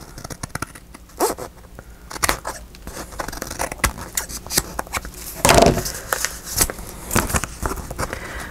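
Scissors snip through envelope paper while a travelers notebook envelope journal is made, with irregular close crisp cuts and rustling scrapes of paper through the clip, loudest near the middle.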